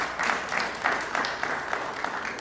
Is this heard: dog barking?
no